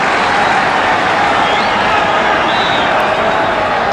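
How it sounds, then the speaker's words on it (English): Football stadium crowd applauding a new player during a match, a steady, loud, unbroken wash of clapping and crowd noise from start to finish. "But applause for the new boy."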